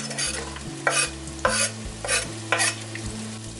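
Onions and lemongrass frying in hot oil in a pot, stirred with a few distinct scraping strokes over a steady close sizzle, while a low background hum runs throughout.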